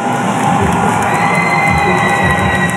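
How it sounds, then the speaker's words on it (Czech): A crowd at a Czech boxing event cheering and applauding a boxer, a loud, continuous roar of voices and whoops with clapping blended in, holding steady throughout. "Takže dámy a pánové, ještě jednou velký potlesk, Pavel Polakovič!"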